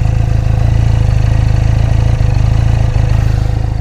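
An SRK 400 motorcycle with an underbelly exhaust pipe idles close by, a loud, steady low thrum with an even, rapid pulse and no talking.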